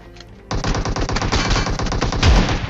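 Shotgun fire in the PUBG video game, a loud rapid run of blasts starting abruptly and continuing densely to the end, close and alone with no talk.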